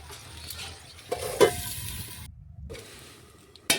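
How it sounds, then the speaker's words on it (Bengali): Vegetables for a shukto are stirred with water in a pan, making a wet, close sizzling swish with a few sharper knocks, a brief pause, then one more clack at the end. "জল দিয়ে ভালোভাবে সবজিগুলো জলের সাথে এভাবে নাড়াচাড়া করে মিশিয়ে নিলাম"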